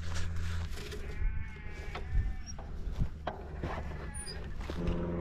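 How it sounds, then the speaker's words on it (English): Sheep bleating outdoors on a countryside walk, several wavering calls from near and farther off, fairly faint over steady background noise and rustling. "More cocky sheep."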